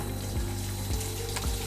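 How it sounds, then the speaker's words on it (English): Water runs through a rain test rig in a lab at about half a litre per second, a continuous close rushing wash with a low pump hum and periodic surging pulses. "So you can see the water flowing through."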